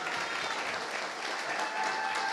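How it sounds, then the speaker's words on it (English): An indoor audience at a nursing pinning ceremony applauding family members, dense continuous clapping that fills the room evenly from start to finish. "let's give your family members a round of applause"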